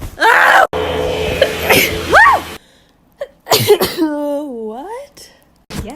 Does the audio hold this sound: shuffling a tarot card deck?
no